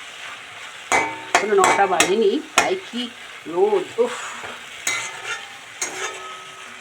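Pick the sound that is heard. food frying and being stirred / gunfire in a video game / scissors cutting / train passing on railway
food frying and being stirred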